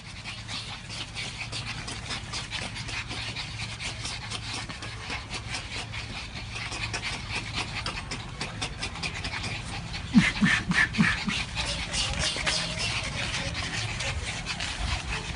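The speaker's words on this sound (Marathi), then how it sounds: "वोडाफोन डॉग म्हणून ओळखली जाणारी ही कुत्र्याची सुंदर चार पिला आहेत" Four small puppies pant and scuffle with rubbing, scraping sounds of play, steady and close, with a brief sharper yelp-like burst near the end.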